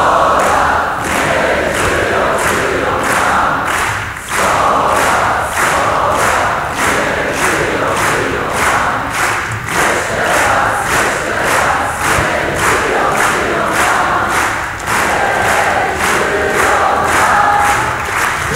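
A large festival crowd at Woodstock 2014 in Poland sings the traditional Polish 'Sto lat' song together with a rock band, a loud, dense mass of voices with a steady pulsing rhythm throughout.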